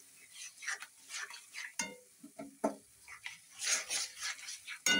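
Stir-frying (koshano) in a pan with garlic added, scraping and stirring sounds over a light sizzle, irregular clatter of utensil against pan, fairly quiet and close, no talking.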